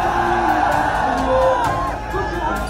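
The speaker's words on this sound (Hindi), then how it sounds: "समाजवादी पार्टी की रैलियों में आने वाली भीड़ की वानगी देख लीजिए" A large crowd at a Samajwadi Party election rally for Akhilesh Yadav in Uttar Pradesh: loud, dense cheering with whoops and shouts, a continuous roar of many voices close and overwhelming.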